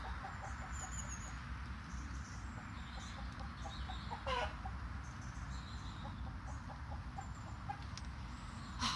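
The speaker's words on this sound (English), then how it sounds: "upstaged by a chicken" Chickens clucking around a small Welsh home garden, soft repeated clucks and a few brief sharper calls over steady low outdoor background noise, no talking.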